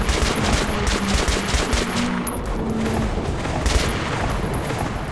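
Relentless bursts of automatic gunfire in Metro: Last Light hammer away in rapid volleys, loud and close, with scattered heavier thumps mixed into the clatter.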